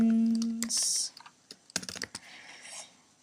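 Typing on a computer keyboard: a short burst of clustered key clicks after a tonal beep and a brief hiss, then scattered taps, close and fairly quiet.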